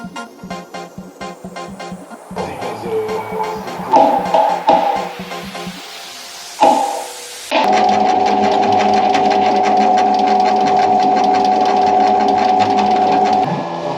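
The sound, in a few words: drilling a flat iron mounting plate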